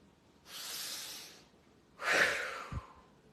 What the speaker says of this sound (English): Now exhale as you raise your arms.